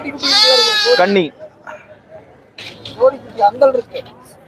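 Goats bleat loudly at a Kunnathur goat market, a long quavering cry up close followed by quieter scattered bleats and market chatter in the background.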